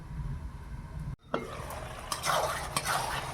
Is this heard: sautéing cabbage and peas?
yes